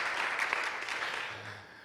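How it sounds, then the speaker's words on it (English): An audience at a peacebuilding conference panel applauds, a short burst of dense clapping at moderate level that tapers slightly toward the end. "we can applause for that, I think"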